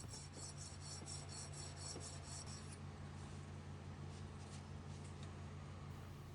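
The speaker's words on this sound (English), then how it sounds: "My plan here is to run the flat side of my blade across my diamond stone until I just work out that divot" A knife blade is rubbed flat back and forth across a diamond sharpening stone, giving a faint, continuous gritty rasp under a low steady hum.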